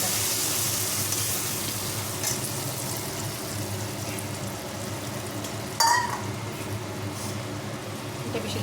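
Pabda fish frying in a pan with ground mustard paste, green chilli, tomato, salt and turmeric gives a steady close sizzle throughout, with a brief clatter near the end.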